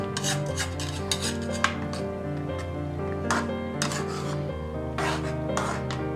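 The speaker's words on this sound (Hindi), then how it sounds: "थोड़ी थोड़ी देर के बाद आपने इसके अंदर चम्मच को हिलाना है ताकि वो नीचे ना लगने पाए" A spoon stirring gajrela, carrot rice pudding, in a cooking pot: repeated scraping and rubbing strokes at an uneven rhythm, set against steady background music.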